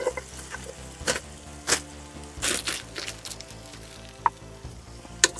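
Bacon, onion and two leeks sauté in a pan with a low sizzle under background music, while bursts of stirring and scraping come and go and one sharp utensil clink stands out.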